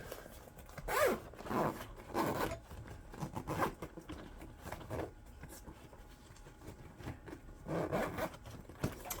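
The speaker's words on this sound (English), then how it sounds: "Let's zip this up and just look at it" A zipper is pulled up on a freshly sewn garment in a quiet sewing room, several short, close, raspy zipping strokes in irregular bursts with pauses between them.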